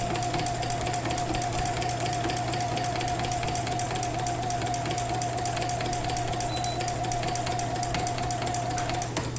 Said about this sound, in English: I'll be pushing the fabric up through the machine